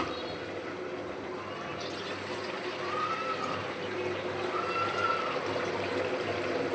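A continuous stream of water pouring into a vessel, steady and close, rising slightly in pitch as it fills.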